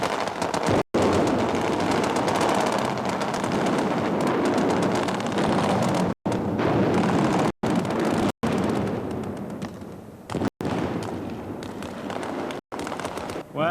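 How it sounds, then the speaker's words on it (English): A staged pyrotechnic explosion blows up a mock missile complex at the 1987 Royal Tournament, a loud sustained roar of blasts and crackling bangs, with brief cuts, dense and continuous for the whole stretch. "Now they've got him safely down, they can withdraw and blow up the missile complex."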